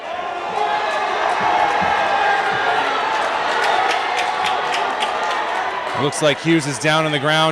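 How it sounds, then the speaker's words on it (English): Crowd noise at a high school basketball game, a steady roar of voices with a commentator talking over it, ending in a brief swell of shouting and cheering. "you're hearing some cheers from the crowd"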